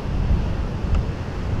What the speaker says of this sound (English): There's still waves on North Shore.